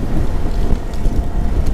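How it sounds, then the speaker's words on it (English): A Canterbury nor'easter blowing outdoors amid construction in Christchurch, New Zealand, a loud, steady roar of wind buffeting the microphone without a break. "Bit of wind. Nothing like a bit of Cantabrian nor'easter."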